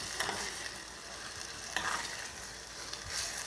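Chicken fries with onions in a pan for boneless chicken handi, giving a quiet, even sizzle with a few faint stirring scrapes and no voices.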